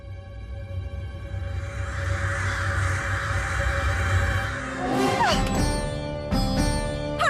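Crows cawing loudly all around, a dense chorus of harsh calls that builds and then breaks into sharper, distinct caws near the end, no talking over them.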